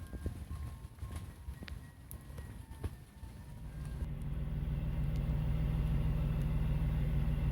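A BMW E46 engine with a muffler delete idles with a steady, deep rumble that grows louder and fuller partway through, with some faint clicks and knocks early on.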